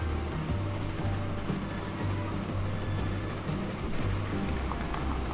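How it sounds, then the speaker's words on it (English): Close, continuous crackling fizz of carbonated soda, a dense bubbling hiss that stays steady throughout, with a faint low hum underneath. "Coke noises"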